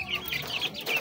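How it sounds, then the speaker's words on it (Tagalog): Dwarf chickens cluck in a short, close burst of several quick, bright calls with no talking. "manok natin dyan, mga dwarf chicken"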